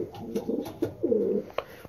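Racing pigeons at their loft coo softly and repeatedly, close by, with a rolling throaty call rising in the middle over faint background noise.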